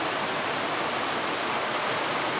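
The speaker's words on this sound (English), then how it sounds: "Alright, it's pouring down rain." Heavy rain pours down on an old barn with a leaking roof, a dense, even hiss that stays loud and constant throughout without any voices.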